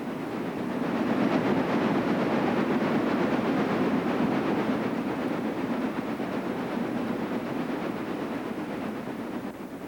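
Chesapeake and Ohio steam locomotive 602 hauling the eastbound Sportsman passenger train into Little Rock Tunnel in 1951, a continuous heavy rumbling roar with clattering wheels that holds steady throughout.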